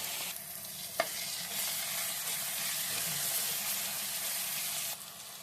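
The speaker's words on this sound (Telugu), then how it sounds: "కొంచెం అంత ఉల్లిపాయ వేసుకుందాము, బాగుంటుంది." Onion frying in a pan for a tomato egg curry, a steady broadband sizzle running throughout with a brief stir clatter near the start, close and fairly loud, no talking.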